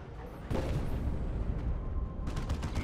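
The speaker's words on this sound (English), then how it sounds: "Plasma cannon." A plasma cannon fires in the Dawn of War 2 strategy game, a sudden heavy blast followed by a sustained rumbling barrage and further sharp impacts, loud with no talking.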